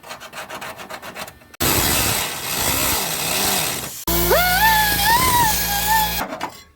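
The excess metal lip on a 1977 Cougar quarter panel is cut off with a power tool. Loud grinding and rasping come first, then a shrill, wavering cutting whine that rises and falls before stopping.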